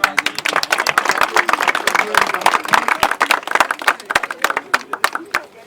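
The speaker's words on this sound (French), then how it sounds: "Applaudissez pour lui." An audience claps for a prize winner at a national inter-school agricultural ploughing championship, close and uneven with sharp individual claps in bursts, a voice faintly present beneath.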